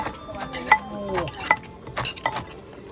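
Rhythmic knocking and clinking of a pestle pounding papaya salad in a mortar, several sharp strikes with scraping and utensil clatter in between.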